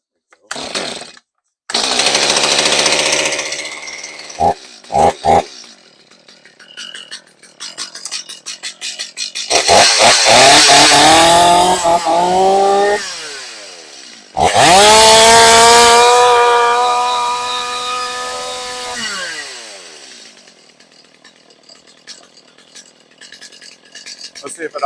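A Stihl MS250 chainsaw that has trouble starting is pulled over, then catches and roars in loud, close bursts of revving. It bogs and surges before settling into a falling idle, with pauses between attempts.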